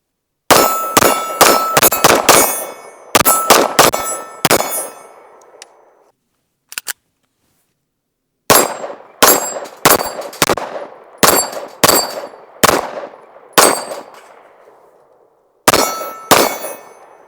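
An Archon Type B Gen 2 pistol firing Federal 115 grain ammunition on a range: close, loud sharp shots in rapid strings with ringing decay, then a pause, then a steadier series of single shots.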